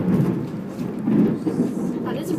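Thunder from a lightning storm rolls as a low, continuous rumble, swelling at the start and again midway through the short stretch.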